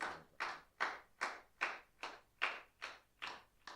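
Hands clap in thanksgiving during a Catholic prayer service, about nine evenly spaced, rhythmic claps sounding faint and somewhat distant.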